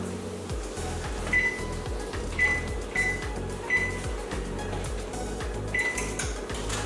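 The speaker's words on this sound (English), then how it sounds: "you set your oven at 475 degrees" Oven control panel being set to 475 degrees, a series of short electronic beeps spaced about a second apart over a low steady hum, close by.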